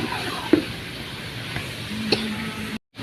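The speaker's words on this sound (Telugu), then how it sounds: "ఇక వంకాయ ముక్కలు, టమాటా ముక్కలు ఇవైతే వేసుకొని ఫ్రై చేసుకోవాలి" Brinjal and tomato pieces fry in a pan for Andhra-style sambar, giving a steady close sizzle with a few light stirring taps before it cuts off abruptly.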